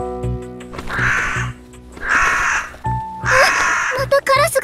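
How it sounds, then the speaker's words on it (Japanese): Crows cawing in an animated Project Sekai story scene, three or four harsh, loud caws spaced through the moment, with speech and music around them. "あ、またカラスが。"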